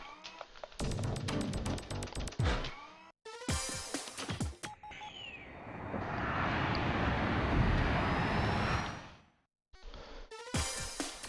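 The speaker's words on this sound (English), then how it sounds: "Let's see if I can shoot down those deploying planes or airdrop planes" Aircraft roar and whoosh in the Dreamcast flight combat game AirForce Delta. A rising jet-engine rush fills the middle of the clip, set among sharp rapid electronic beeps and bursts that cut in and out.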